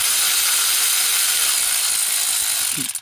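Ratchet tightening an injector hold-down on a Cummins 5.9 24V common rail engine, a loud continuous mechanical buzz of rapid clicks that cuts off sharply at the end.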